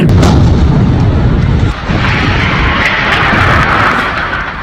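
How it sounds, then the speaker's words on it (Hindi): Bombs explode in Gaza during the war, heavy booming blasts with a rolling rumble heard loud and close, fading slightly toward the end. "इसीलिए वहां बम गिराए जा रहे हैं"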